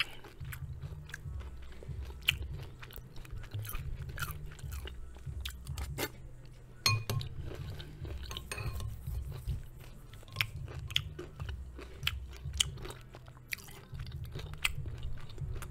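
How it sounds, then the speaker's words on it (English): Granola clusters with pumpkin seeds being crunched and chewed up close, a steady run of crisp, repeated bites and grinding chews over nearly sixteen seconds, with no talking. "I love crunching these pumpkin seeds."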